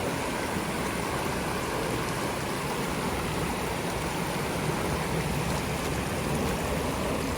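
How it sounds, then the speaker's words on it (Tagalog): Strong river water on La Plaine river in Switzerland rushes past close by, a loud, steady broadband roar of flowing current with no pause and no voices. "Ang lakas ng tubig, guys."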